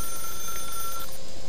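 A telephone rings in The Stanley Parable video game, a steady electronic bell tone holding for about a second before cutting off, fairly loud with no talking over it.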